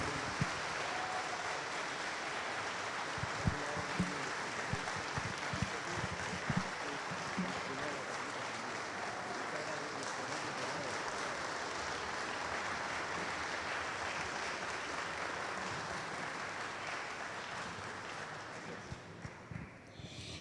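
Sustained, dense applause from a concert audience at a sacred music festival in Caldas, steady and loud for about twenty seconds before thinning out at the end, with some voices mixed in.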